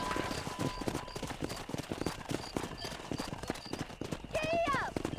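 Steady clip-clop of horse hooves in Red Dead Redemption under continuous talk, with a horse whinnying near the end; busy game-like ambience throughout.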